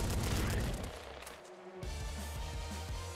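Rapid continuous video-game gunfire from Nuclear Throne, a dense stream of low thumping shots with a heavy burst at the start, steady and repetitive throughout.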